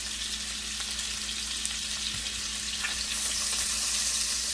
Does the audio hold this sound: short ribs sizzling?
yes